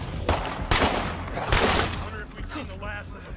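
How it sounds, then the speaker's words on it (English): An MP5 submachine gun firing in State of Decay 2, with a few rapid bursts of shots at moderate volume, spaced apart and mixed with other game noise. "It's weird that the MP5 sounds exactly like how it does in all the COD games and stuff."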